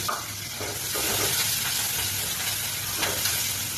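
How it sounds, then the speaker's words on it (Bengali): Green chillies and chopped onion sizzle and spatter steadily in hot oil, a close, continuous frying hiss with sharp pops scattered throughout, no voices. "লঙ্কাগুলো ভীষণ ছিটছে বন্ধুরা"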